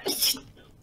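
A single short, sharp sneeze sounds close by, a quick breathy burst that fades to quiet within a second.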